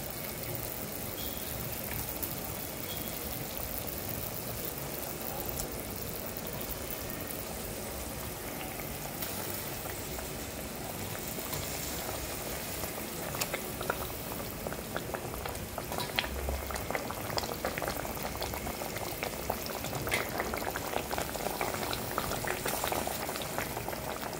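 Pabda fish in a bubbling mustard gravy, the liquid boiling steadily with a continuous soft gurgle and fizz that grows slightly busier over time, close but quiet, with no voices.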